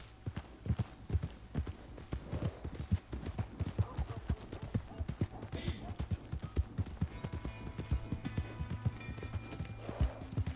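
A horse's hooves clip-clop at a steady, brisk rhythm in Red Dead Redemption 2, with a short whinny and faint background speech now and then.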